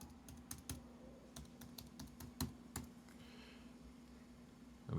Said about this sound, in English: So we'll just type it out by hand.